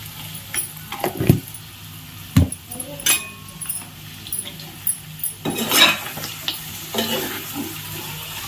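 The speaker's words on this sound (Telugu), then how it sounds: "అల్లం పేస్ట్ వేసిన తర్వాత మంచిగా కలుపుకోవాలి" Ginger paste being stirred into blood fry in a pan, heard as clattering utensil knocks and scrapes over a low sizzle, with a voice talking in places.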